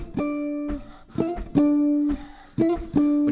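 Jazz guitar plays a short phrase of octaves over a D blues, with several distinct picked notes, some ringing and some cut short, close and clear with no talking.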